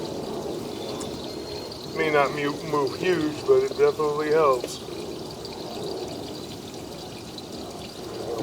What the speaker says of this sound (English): why don't you turn the water on?